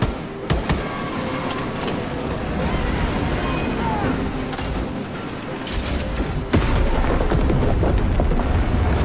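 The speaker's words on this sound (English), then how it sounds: "Detonate the charges now!" Explosive charges detonate in a video game battle against a Hive beast leader, giving deep rumbling booms and crashing blasts over sustained game noise, with a voice speaking during the mayhem.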